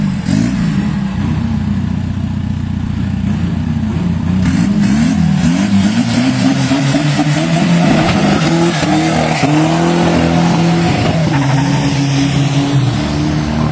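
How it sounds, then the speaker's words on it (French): A small car accelerates hard on a 200 m run, its loud engine climbing through rising revs in stepped gear changes, close and continuous over the whole stretch, with some tire noise and no speech. "il court quand même très fort son petit auto"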